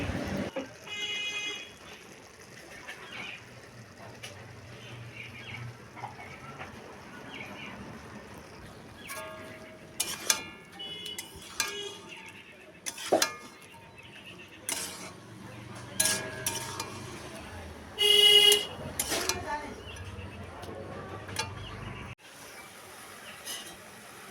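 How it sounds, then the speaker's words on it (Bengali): Jute greens (pat shak) are stirred in a pan with a utensil as excess water cooks off, giving intermittent scraping and metallic clinks in irregular bursts, close and fairly quiet. "নেড়েচেড়ে জলটা শুকিয়ে নিতে হবে"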